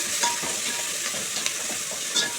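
A farm chicken curry base with coriander leaves fries lightly in a pan, giving a steady close sizzle broken by a few soft scraping stirs.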